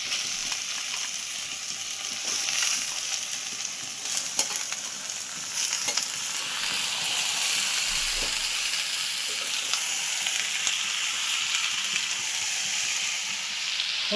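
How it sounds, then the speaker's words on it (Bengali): Mutton pieces hit hot oil in a pan for a Bengali-style curry, throwing up a loud, steady sizzle and hiss with occasional crackles and stirring scrapes, close and continuous. "তেল ছেড়ে দিয়েছে, এর মধ্যে আমি এবার মাংসটা দিয়ে দেবো।"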